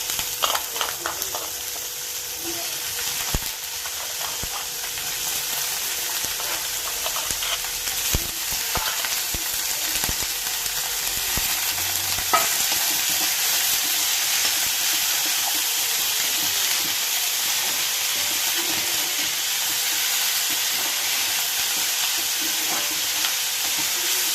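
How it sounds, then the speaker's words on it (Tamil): Snake gourd stir-fried in an iron kadai, a dense steady sizzle and hiss throughout with occasional spatula scrapes and knocks, close up and with no voices. "இப்போ புடலங்காய் சேர்த்துக்கலாம்."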